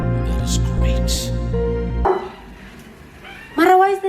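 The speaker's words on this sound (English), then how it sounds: "why is the dog making such a noise?" A dog in a home barks and whimpers with high, shrill cries that rise and fall, heard under and between people talking nearby.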